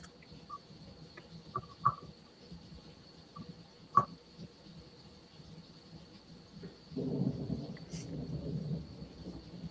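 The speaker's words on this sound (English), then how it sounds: "I hear thunder on somebody's camera." Thunder rumbles outside an open door, a low distant roll that swells in the later seconds, with faint scattered clicks and a thin steady insect-like tone in the background.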